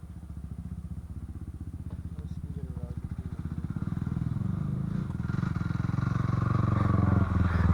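A 2006 Honda CRF 450 dirt bike engine revs in first gear, a loud, rough, pulsing idle that builds into a strained, rising roar as the throttle opens, with people talking over it.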